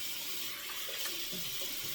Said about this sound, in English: So hot water, let's start wetting the face